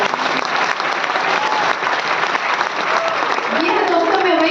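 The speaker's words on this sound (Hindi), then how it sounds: "आप तालियां बजा सकते हैं।" An audience applauding at a talk on a travel business and Modicare: dense, steady clapping fills the whole stretch at full strength, with a faint voice surfacing near the end.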